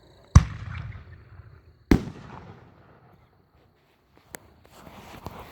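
Fireworks shells burst, white glitter willow with red stars: two loud booms, each followed by a long crackling, trailing fizz, then a fainter sharp pop and scattered distant crackles.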